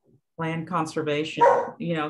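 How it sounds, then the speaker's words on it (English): A dog barks repeatedly in the background during an online committee meeting, sharp yips and woofs mixed with a person speaking over them at close range. "That's why I have to mute all the time. She's nonstop barking tonight."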